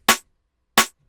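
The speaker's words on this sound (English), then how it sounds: "that's the snare on its own." Two dry snare drum hits without layers, evenly spaced and close, each short with a quick decay and silence between.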